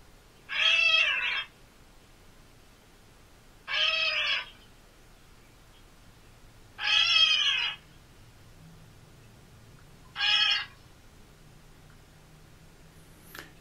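Four cat-like mewing calls from a gray catbird, each short and clear, spaced a few seconds apart over a quiet, faint background.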